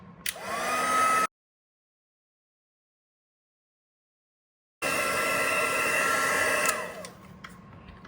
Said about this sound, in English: So I'm going to heat up my heat tool for just a little bit and then emboss it.